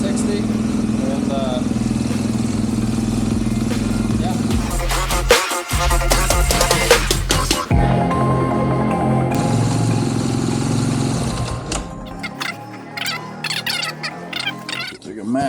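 A Husqvarna FC450 motorcycle engine runs at a warm-up idle for a long stretch, a loud, steady, throbbing drone that fades out near the end, with someone talking over it.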